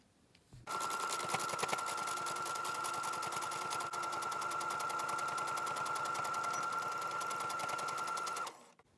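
A sewing machine stitches along the bottom edge of a fabric face mask, a loud steady rapid mechanical whir with a fine needle rhythm, running continuously for about eight seconds and then stopping.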